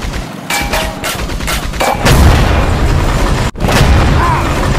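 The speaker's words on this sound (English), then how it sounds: "Shirto, Soka, shoot that thing." Gunfire and heavy booms in a WW2 stop-motion battle scene around a Goliath anti-tank mine, with loud repeated blasts over a dense rumbling din that cuts out briefly near the end.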